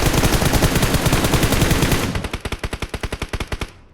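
Rapid automatic gunfire from an online shooter game fires in a long dense burst, then continues as a slower, evenly spaced string of loud shots before cutting off.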